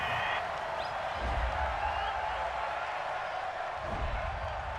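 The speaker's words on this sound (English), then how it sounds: "Some boos coming down right now from this home crowd after that call" Home crowd at an Eagles–Texans NFL football game in Philadelphia booing after a pass interference call, a broad, steady stadium roar of disapproval filling the whole stretch with distant murmuring underneath.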